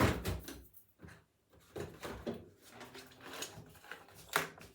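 Several wooden thumps and sliding scrapes as a bathroom drawer is pulled open and things inside are shuffled, close by and uneven, with brief quiet gaps between the knocks.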